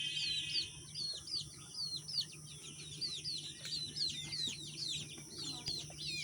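Grown broiler chickens in a poultry farm shed cluck and chirp in a constant busy chorus, many birds calling over one another at a moderate distance against a low steady hum.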